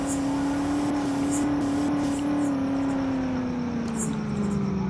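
A loaded goods truck idles, its engine giving a steady, close, droning hum with a slowly sagging pitch and a few faint clicks on top.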